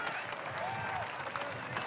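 Crowd cheering and applauding at an international lumberjack championship during a springboard chopping heat, a dense, steady roar of clapping and voices that holds for the whole stretch.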